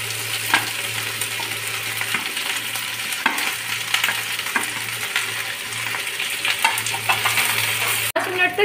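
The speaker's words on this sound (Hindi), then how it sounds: "भिंडी को मीडियम फ्लेम पे चला चला कर भुनेंगे।" Okra stir-fried over a medium flame in a pan with cumin and green chillies, a loud continuous close sizzle with repeated spatula scrapes and taps, ending in a brief clunk.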